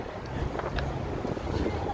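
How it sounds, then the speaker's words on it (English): Steady wind buffeting a microphone outdoors on a downtown Chicago street, a constant low rumbling roar with gusty flutter throughout. "Again, it's a little bit windy."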